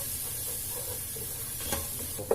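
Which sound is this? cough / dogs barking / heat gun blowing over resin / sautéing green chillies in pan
sautéing green chillies in pan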